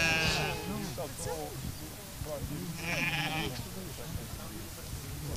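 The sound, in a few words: Romanov breed sheep bleating on a farm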